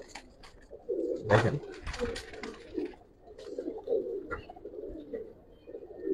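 A pair of Giribaz pigeons coo softly in a low, rolling rhythm, with a voice speaking briefly under the cooing.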